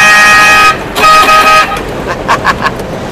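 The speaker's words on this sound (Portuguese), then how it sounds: "Vou dar só uma buzinadinha aqui depois que passar esse caminhão" A car horn on a road trip near Poços de Caldas, sounding in a couple of short honks with a steady tone between brief gaps, followed by road and traffic noise from inside the vehicle.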